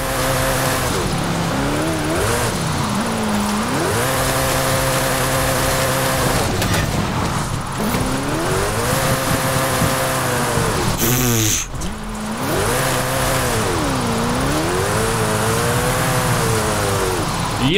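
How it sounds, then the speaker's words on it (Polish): In Forza Horizon 5, a car drifts on a wet track, its engine revving repeatedly in loud rising and falling sweeps, with tire squeal and gear changes breaking the rhythm. "na ćwierć gazu się jeździ tym samochodem, żeby driftować"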